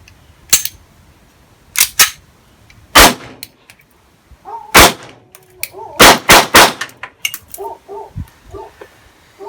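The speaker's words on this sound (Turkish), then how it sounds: "Blow F92'nin sesi atışı bu şekilde." Sharp, loud shots from a Blow F92 blank pistol crack out one at a time and then in a quick cluster, with brief mechanical clicks and a little background noise between them.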